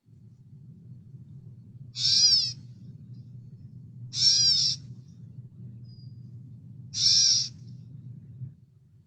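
Three separate gray catbird calls with a nasal, cat-like mew, evenly spaced a couple of seconds apart, ringing out clearly over a steady low hum.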